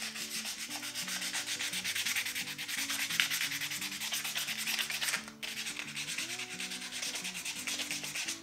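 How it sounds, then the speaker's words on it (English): Sandpaper rubbed back and forth over a slippery coated surface, a close, steady scratchy rasp in repeated strokes with a brief pause partway through. "I took some sandpaper, so any kind of sandpaper you can find, okay, and I just gave it a rub"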